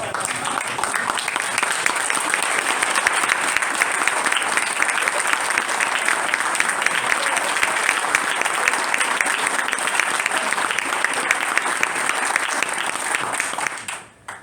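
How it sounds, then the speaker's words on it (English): A church congregation, on its feet at a congregational meeting, applauds in a dense, steady wash of clapping that holds for about fourteen seconds before dropping away sharply at the end. "would you stand and please offer a hand of applause to the"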